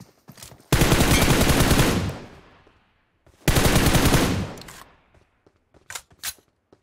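Two long, loud bursts of automatic gunfire from PUBG Mobile, each lasting over a second, followed by a few short isolated shots.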